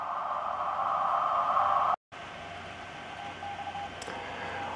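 CW Morse code radio signal passed through a Hi-Per Mite active audio filter: a steady tone over hiss and static, cut off briefly, then returning fainter with short keyed beeps and low noise.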